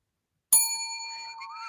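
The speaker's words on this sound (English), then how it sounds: "I gave myself a bell." A single bright bell is struck by a podcast host, a sharp ding that rings on with a long, clear sustained tone and no talking over it.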